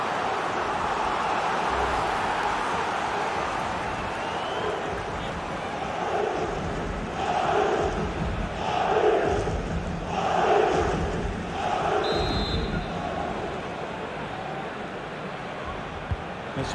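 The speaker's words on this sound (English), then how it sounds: "Here's Kroos, being egged on by the crowd." A large stadium crowd in a FIFA 23 Real Madrid vs PSG Champions League match keeps up a loud, continuous roar that swells into rhythmic chanting waves midway, with commentary talk running over it.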